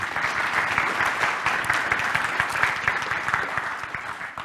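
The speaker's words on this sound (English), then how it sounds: "A round of applause for Alice." Audience applause fills a conference hall during a cybersecurity summit talk, a steady dense wash of clapping that stays loud and even throughout with no voices over it.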